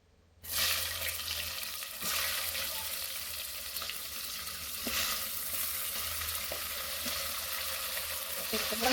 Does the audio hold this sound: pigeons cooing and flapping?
no